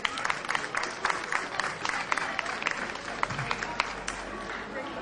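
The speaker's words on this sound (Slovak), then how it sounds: "Ešte jeden potlesk pre pána Kanku poprosím." Audience applause for Mr. Kanka at a village ceremony in Vinosady, marking the village's 800th anniversary: steady, moderately loud clapping from a hall crowd, sustained for several seconds with scattered sharp claps standing out.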